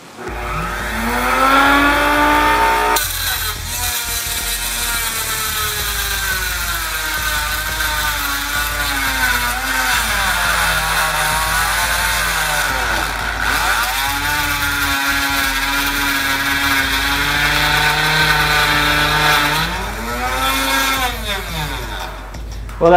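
A Dremel rotary tool mounted in a router platform cuts into plastic, a loud steady high-pitched whine running throughout with the motor pitch dipping and rising as it loads and eases off.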